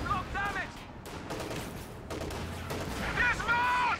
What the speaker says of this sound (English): Boom! There goes the Kubelwagen.